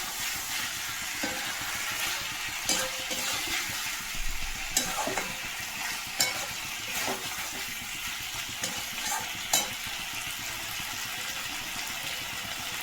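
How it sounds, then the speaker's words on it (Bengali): Vegetable and soybean curry with ginger, cumin and turmeric powder fries in a pan, giving a steady close sizzle with repeated scraping stirs of a spatula at irregular intervals, no talking. "আমি শুধু আদা জিরে আর হলুদ গুঁড়ো দিয়ে তরকারিটাকে করছি"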